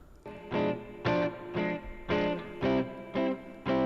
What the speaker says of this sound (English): there's a lot of reverb on that. I like reverb on my guitars.